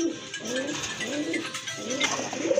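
Male pigeon cooing at a pigeon market where pairs of birds are on sale, a close, repeated rolling coo of several phrases over a busy background.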